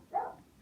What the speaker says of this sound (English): just got started barking about the time I start my video